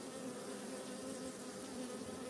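Honeybees hum inside a hive in a dense, steady drone, a continuous close buzz from many insects together without pause.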